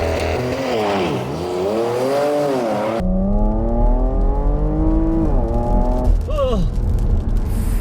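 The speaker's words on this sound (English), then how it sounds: "Launch control on this thing is absolutely epic." Porsche Macan accelerating hard under launch control, the engine note climbing steadily through the revs and a gear change, loud and close from inside the car throughout.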